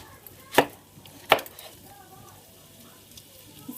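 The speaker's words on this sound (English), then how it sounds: "So what I'm going to do with this onion is I'm going to cut it in half." Two crisp knife thuds on a cutting board as a large onion is cut in half, spaced under a second apart, close and clear against quiet kitchen background.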